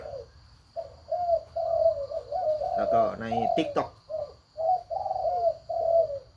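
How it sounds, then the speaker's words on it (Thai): A hoarse, cooing bird call repeats in short phrases close by, with a brief burst of chirping midway and a voice speaking softly underneath. "เป็นนกที่เสียงแหบ ๆแต่มีความขยันเป็นเยี่ยม"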